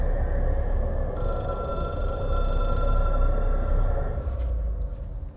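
A red phone ringing in the video game Control, a loud, steady electronic telephone bell over a low droning background that fades near the end.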